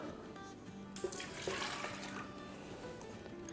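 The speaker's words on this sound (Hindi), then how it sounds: "तो एक ब्लेंडिंग जार लेंगे, इसमें सबसे पहले हम डालेंगे 1 कप दूध" Milk poured into a blender jar, a short splashing liquid pour that rises briefly in the middle, set against a quiet room hum.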